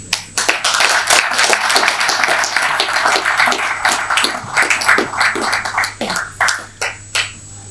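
Big round of applause from a conference audience at a national lease convention, dense overlapping claps filling the room loud and close, thinning into scattered individual claps toward the end.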